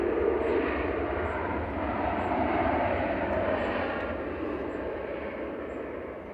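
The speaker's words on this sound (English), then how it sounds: "Ryanair 2071 from Alicante there, 737-800 ENW" A Ryanair Boeing 737-800 jet from Alicante roars steadily at Manchester Airport, a broad, loud engine rush that holds throughout and fades slightly toward the end.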